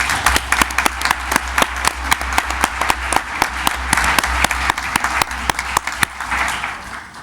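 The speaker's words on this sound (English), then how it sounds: "Let's hear a round of applause." Sustained round of applause from a seated audience at a village board meeting, with dense, fairly loud clapping that stays steady throughout and fades slightly toward the end.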